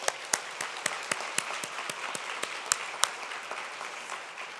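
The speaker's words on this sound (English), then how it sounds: "Let's have a round of applause." Applause at a business awards event, a thin, fairly distant patter of clapping with a few sharper claps standing out, steady for several seconds.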